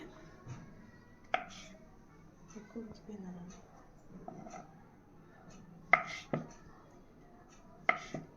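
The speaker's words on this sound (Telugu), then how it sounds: "ఫోర్ పీసెస్గా కట్ చేసేసుకోవాలి" A knife chops mushrooms into four pieces on a board, quietly and sparsely, with a few sharp isolated cuts spread among faint handling noises.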